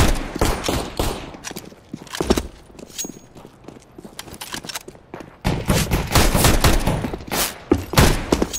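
Video game gunfire crackles in rapid, dense bursts of overlapping shots, loud and close, thinning briefly in the middle before swelling again into a heavy volley.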